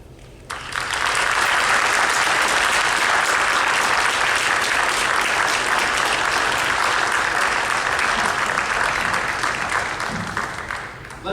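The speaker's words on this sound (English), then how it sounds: "Let's give one more round of applause for all those inductees." Loud, sustained applause from a large audience at a high school hall of fame induction, dense and even throughout, fading slightly near the end.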